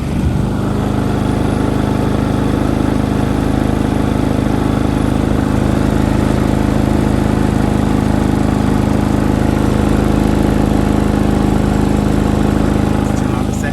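A portable 3000 to 3800 watt home backup generator runs close by with a loud, continuous, even engine drone that does not change for the whole stretch.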